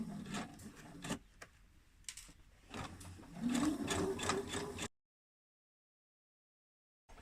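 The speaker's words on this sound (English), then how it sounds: "I'm going to sew to the end of the trouser leg" Close, loud bursts of a sewing machine stitching a trouser leg seam, short stuttering runs that build into a steady stretch of stitching before stopping abruptly into silence.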